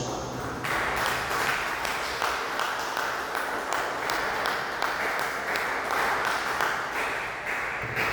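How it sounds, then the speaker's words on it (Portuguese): A church congregation breaks into steady, sustained applause for Jesus after a sermon, many hands clapping close and dense for several seconds with no one speaking. "dê uma salva de palmas para Jesus"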